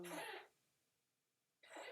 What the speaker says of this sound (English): my cat is coughing at the moment